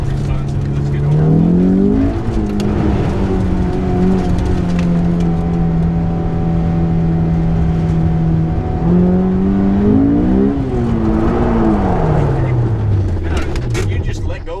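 BMW car accelerating hard in first gear on an autocross skid pad, engine note climbing and falling as it pulls through the turn, loud and close from inside the car, with voices talking over it.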